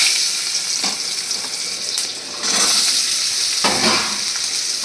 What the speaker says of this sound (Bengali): আলুগুলোকে একটু লাল লাল করে ভেজে তুলে নেব